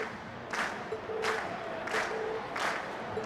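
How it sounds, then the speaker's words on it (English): A concert audience in the video game Trails of Cold Steel cheers in repeated swells of crowd noise and clapping, with an announcer's voice faintly underneath. "we've heard your cheers loud and clear"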